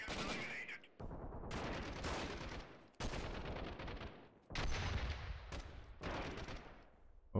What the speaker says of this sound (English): Oh, there's a grenade going off.